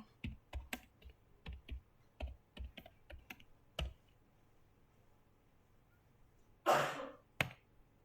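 Typing on a computer keyboard at a network device console, a run of sparse, crisp key taps up close, followed by a short pause, a faint rustle and one last keystroke.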